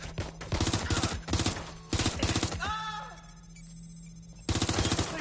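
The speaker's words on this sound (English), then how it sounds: "They're shooting at us." Gunfire in the video game Watch Dogs Legion: rapid bursts of automatic shots in several close, loud volleys separated by a brief lull with a tonal whine, then shooting resumes.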